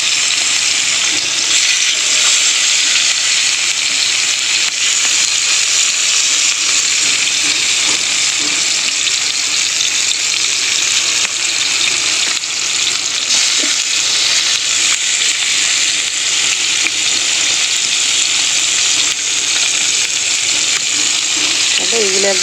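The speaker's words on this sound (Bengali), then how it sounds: "আমি ননস্টিকের সসপ্যানে মাছটা ভাজবো" Fish fries in a nonstick saucepan with a continuous, close sizzle and a crackling hiss of hot oil, holding steady for the whole stretch with only small shifts as pieces settle.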